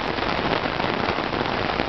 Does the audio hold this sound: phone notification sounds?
no